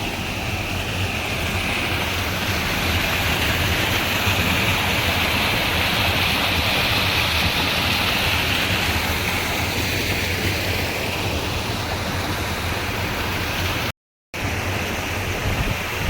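Broad steady roar of water pouring from a dam in the rainy season, loud and continuous, filling the whole stretch with a brief dropout near the end and no talking.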